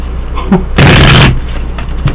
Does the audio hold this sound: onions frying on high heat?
no